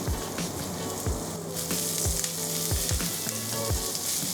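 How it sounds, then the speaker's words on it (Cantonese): Ginger and scallions stir-frying in a little oil in a flat-bottomed wok, a loud continuous sizzle with rhythmic knocks and scrapes of the spatula against the pan. "炒香薑同蔥"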